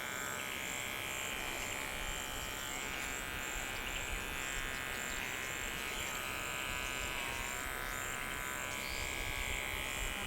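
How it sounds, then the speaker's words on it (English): Electric clippers trim the paw cuff of a Toy Poodle in a Miami trim, humming steadily and closely throughout with a constant buzzing drone and no talk. "And then coming in with our clipper. And this actually cuts in our cuff."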